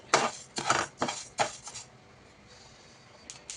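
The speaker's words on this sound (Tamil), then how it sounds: "கம்பை வந்து நம்ம வந்து வறுத்து எடுத்துக்கலாம் சிம்லே வச்சு வறுத்துக்கலாம் வாசனை வர்ற அளவுக்கு" Pearl millet roasting in a pan on a low flame, stirred with a metal spoon that scrapes and clinks against the pan in several close, brisk strokes, followed by quieter faint rustling.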